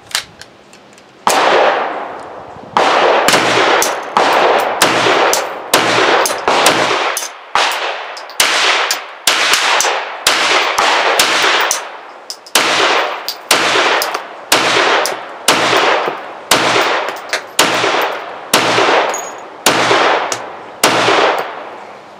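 A Walther PDP pistol with a 5-inch slide and short grip fires cheap steel-case ammo at an outdoor range, about seventeen loud, sharp shots in a fast, steady string, each ringing out briefly.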